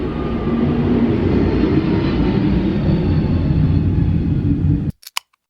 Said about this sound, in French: ceci était un avion